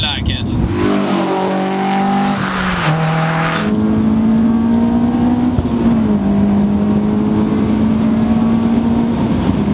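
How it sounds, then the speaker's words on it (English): A Honda S2000 AP2 with its F22 engine revs hard, the pitch climbing through rising strained sweeps before settling into a loud, steady grunty drone close by. "This motor, which is the F22, it has this very signature sound compared to the other Honda motors."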